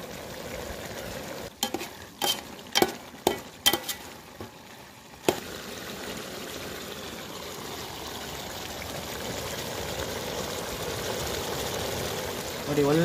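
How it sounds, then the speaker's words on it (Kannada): Chicken sukka with tamarind water and garam masala simmers in a pan. A few sharp spoon knocks against the pan come first, followed by a soft, steady bubbling and sizzle. "ನೋಡಿ, ಒಳ್ಳೆ ಕುದಿ ಬರ್ತಾ ಇದೆ"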